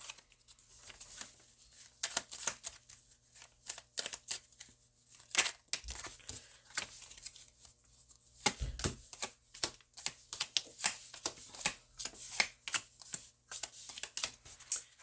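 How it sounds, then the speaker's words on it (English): Tarot cards being shuffled and pulled from the deck, a run of quick papery riffles, slaps and flicks in irregular bursts, close and fairly quiet, with no speech. "let me pull some more cards here"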